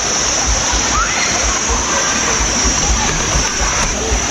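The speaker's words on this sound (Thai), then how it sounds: "นี่จะเป็นตาน้ำทางน้ำไหลมา" A mountain stream near its spring source rushing and splashing continuously nearby, a loud steady flow of clear water with no pauses.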